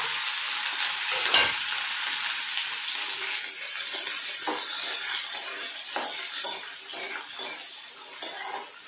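Chopped onion hitting hot oil with ajwain seeds, producing a loud, dense, continuous sizzle with a sharp burst near the start and faint pan scrapes underneath, close and without talk.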